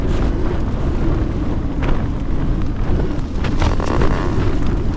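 Strong wind buffets a Wild Country Panacea tent pitched for solo camping in snow, a steady loud roar of gusts and fabric flapping close by, with no voices.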